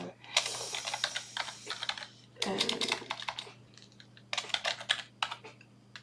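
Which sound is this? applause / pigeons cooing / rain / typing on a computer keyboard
typing on a computer keyboard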